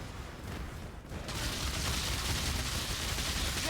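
Explosions in the video game Path of Exile form a dense, continuous rumbling crackle that swells louder after a brief dip and stays heavy to the end, with no talking.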